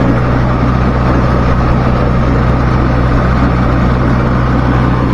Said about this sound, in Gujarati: ને આપણું ટ્રેક્ટર આવે છે 35-40 હાલે અત્યારે આપણું.